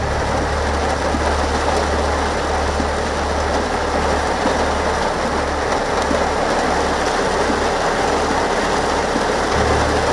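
Heavy, unrelenting monsoon rain pours down in Mangaluru, a dense steady hiss of rainfall on surfaces with a low continuous rumble beneath, loud and unbroken throughout.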